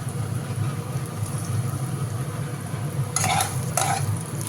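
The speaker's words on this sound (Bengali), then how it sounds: "আলুটা আগে ভেজে নিই" Potatoes fry in hot oil with a continuous loud crackling sizzle and a low background hum, swelling with two brief bursts of stirring toward the end.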